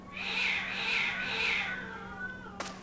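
A cat in the video game Battle Brothers lets out a long, drawn-out wailing meow that rises and falls in three pulses before fading, close and clear, followed by a short sharp click.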